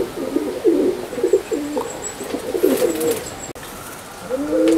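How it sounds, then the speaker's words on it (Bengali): Domestic racing pigeons in a loft coo repeatedly in low, throaty bursts, near and fairly loud, with a brief pause before the cooing resumes. "এও অনেক পুরনো পায়রা আমার"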